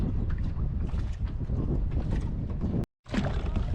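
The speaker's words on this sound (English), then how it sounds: "Jim's just choosing to row in because it's quite a calm day" Small aluminum expedition boat being rowed in toward shore on calm water, with steady broadband water and wind-like noise and a brief drop-out near the end.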